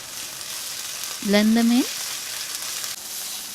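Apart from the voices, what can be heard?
garlic and ginger frying in pan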